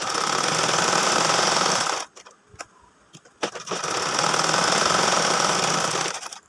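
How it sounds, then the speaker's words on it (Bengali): Sewing machine stitching around the edges of a folded 8 by 4 inch fabric piece, a steady fast mechanical whir that cuts out for about a second, with faint clicks in the gap, then resumes just as loud. "তো এটাকে ভাঁজ দিয়ে আমি চারপাশ দিয়ে এইভাবে সেলাই করে নিচ্ছি"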